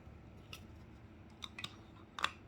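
A toy dinosaur's spinning back blade cuts through Play-doh with a few faint, short scraping snips over a low background hum, the last one briefly louder.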